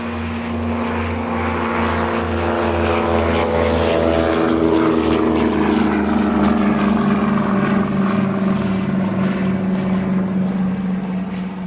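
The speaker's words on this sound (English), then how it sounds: "That was the sound of the Battle of Britain Memorial Flight's C-47 Dakota taking off from" A Douglas C-47 Dakota of the Battle of Britain Memorial Flight taking off from RAF Coningsby in Lincolnshire, its piston propeller engines droning loud and steady, pitch slowly shifting as it accelerates away, with no talk.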